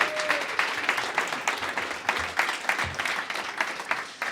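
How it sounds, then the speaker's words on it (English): Audience applause at a startup showcase event, a steady wash of many hands clapping with dense overlapping claps sustained throughout, fairly close and full, with no talk over it. "Let's give a big round of applause to Kaiza."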